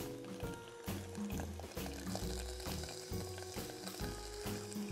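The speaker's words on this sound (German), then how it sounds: "Knoblauchzehen. Das darf ruhig ein bisschen mitköcheln." Garlic cloves and shallot sautéing in a pan, a continuous near sizzle with repeated knocking and stirring strokes of a utensil against the pan, no voices.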